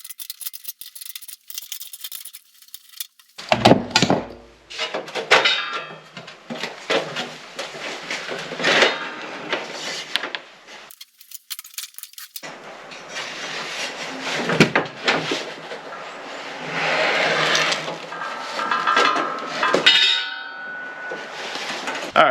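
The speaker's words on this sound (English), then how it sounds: "I'm going to loosen up these 2 bolts on either side to slide this kind of cleat over" Bolts are loosened to free a Torklift GlowStep Revolution Uprising RV step. Close metallic clanks, scraping and clinks come in irregular bursts, with a short quiet pause partway through.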